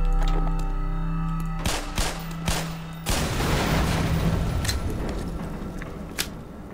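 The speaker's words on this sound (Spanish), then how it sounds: "El eco de la explosión realmente es impresionante." A loud explosion in the Black Mesa video game bursts out after a few scattered thuds, then its long rumbling echo slowly fades over several seconds.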